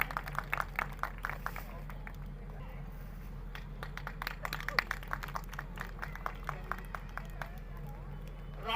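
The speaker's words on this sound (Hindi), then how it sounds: "जोरदार तालियों से साथियों स्वागत कर दें।" A crowd at a BSP political rally claps to welcome a candidate, the scattered, fairly faint applause continuing steadily throughout with a low hum underneath.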